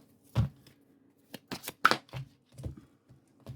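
Cards are shuffled in a few short, irregular bursts, soft riffles and taps close by with brief pauses between.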